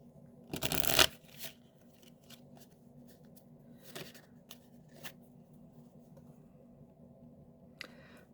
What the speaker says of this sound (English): Those cards are so hard to shuffle.